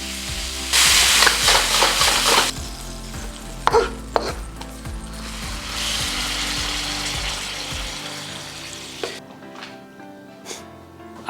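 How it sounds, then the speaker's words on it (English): Meat stir-fried with a wooden spatula over high heat, with a bright hissing sizzle and rhythmic scraping strokes against the pan, loud and close, fading to quieter clinks at the end. "And then we're gonna stir fry the meat."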